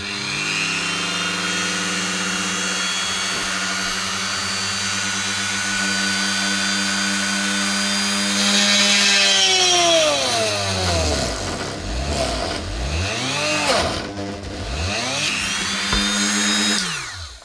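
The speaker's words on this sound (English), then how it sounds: "all I'm going to do is drill a hole down." A power drill whines at a steady high speed, then bogs down and rises again repeatedly as it bores through wood, loud and close.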